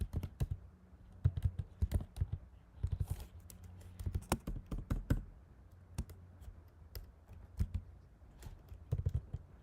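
Keys on a computer keyboard are struck in quick bursts of clicking and tapping, with short pauses between runs, close and clear, and no speech.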